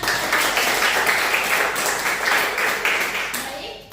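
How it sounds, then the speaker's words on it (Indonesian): Classroom applause after a student group presentation, a dense, continuous patter of clapping from many hands that holds steady and then fades out at the end. "Tepuk tangan."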